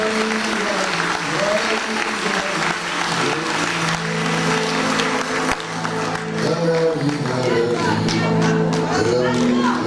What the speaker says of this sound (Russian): Дорогие друзья, ну а нам остается хлопать. Аплодисменты.